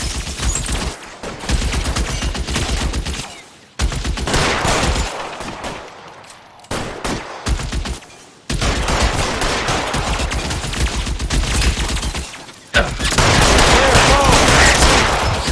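Sustained heavy gunfire in a L.A. Noire shootout, with dense volleys of automatic and rapid shots coming in long loud bursts, separated by short near-silent gaps.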